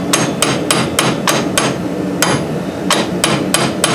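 Sharp metallic hammer blows break away rust during a rear wheel bearing replacement on a Chevrolet Equinox, about a dozen close, loud strikes in a fast, slightly uneven rhythm with a brief pause midway.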